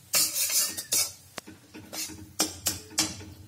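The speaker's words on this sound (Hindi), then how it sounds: "इसको आपको लगातार चलाते रहना होगा और फ्लेम को लो रखना होगा" Besan roasting in a pan is stirred with a spoon, producing loud, close scraping strokes and occasional clinks against the metal in an uneven rhythm.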